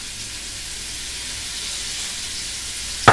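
Half of a small chopped onion sizzles in a hot frying pan, giving a steady, even hiss with a sharp clatter at the end.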